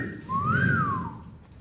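A comedian imitates a whistled catcall with a single rising-then-falling whistle, clear and close, lasting about a second with no talk over it.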